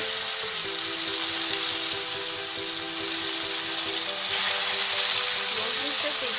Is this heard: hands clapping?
no